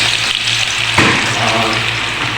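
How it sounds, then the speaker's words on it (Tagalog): Loud, close sizzle of garlic frying in hot oil, continuous, with a brief stirring scrape partway through. "Prito natin yung bawang"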